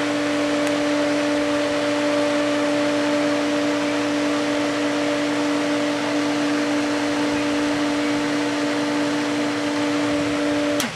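A pool filter pump runs on its rinse setting with a steady, loud hum and a constant motor drone that holds unchanged throughout and cuts off at the very end.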